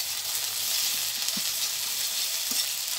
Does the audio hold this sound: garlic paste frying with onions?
yes